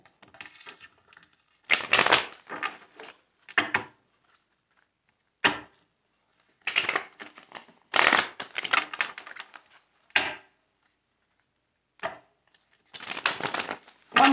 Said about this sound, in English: One more shuffle, my loves.